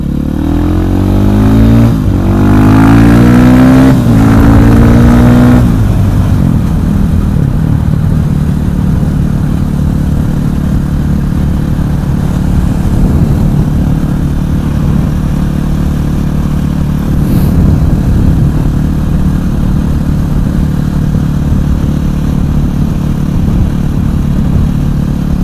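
A KTM 500 EXC supermoto pulls away from a green light, revving hard through several rising gear pulls in the first seconds, then settles into a steady engine drone with wind noise for the rest.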